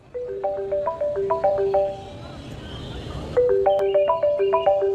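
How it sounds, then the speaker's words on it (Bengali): A mobile phone ringtone plays a bright, repeating electronic melody of short stepped notes, stops briefly, then resumes louder and nearer, with no talk over it. "তোর মোবাইলে রিং হচ্ছে।"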